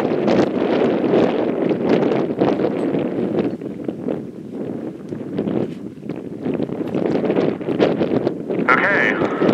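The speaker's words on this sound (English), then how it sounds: "Gonna wait for this little gust of wind to go by." Outdoor wind gusts buffet the microphone at a model rocket launch pad, a loud, continuous low rumble that surges and eases for several seconds, nearly unbroken throughout.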